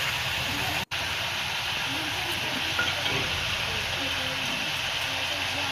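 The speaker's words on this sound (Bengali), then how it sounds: "তো দেখো আমি তরকারিতে হলুদ লবণটা দিয়ে দিলাম, সঙ্গে একটু জিরা ধনিয়া বাটাটা দিয়ে দিচ্ছি।" On a village clay stove, a dried-fish curry sizzles steadily after turmeric, salt and cumin-coriander paste go in, giving a continuous frying hiss with faint stirring.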